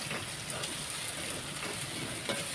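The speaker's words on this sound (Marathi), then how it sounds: "आता तेलामध्ये कांद्याला परतून घ्यायचे." Chopped onions sauté in hot oil in a home kitchen, giving a steady, faint, continuous sizzle and crackle with no talk.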